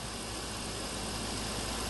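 A car engine idles with a water cell added to it, producing a steady, even rumble that holds constant throughout with no talk over it.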